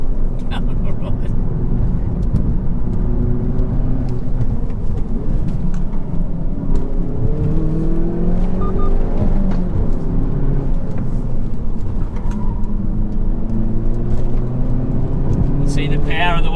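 A BMW M140i and a Hyundai i30N accelerate hard on a winding mountain road, with loud engine drones rising and falling in pitch under steady road noise while someone talks over them from inside the car.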